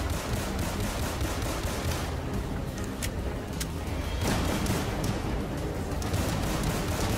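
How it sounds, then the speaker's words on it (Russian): Gunfire in the Roblox game Brookhaven as a player shoots at zombies: a dense, unbroken stream of rapid shots and cracks at steady loudness, with no clear talking. "Вот по зомби же стреляю."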